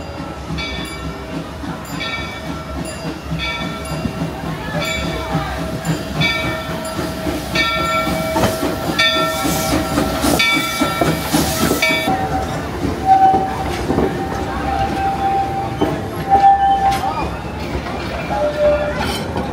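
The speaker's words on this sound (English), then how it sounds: "I just heard the sound of that train coming around the corner." A theme park train at Knott's Berry Farm rumbles and clatters past at moderate distance, with a rising rush of noise midway as it rounds a corner and people chatting over it throughout.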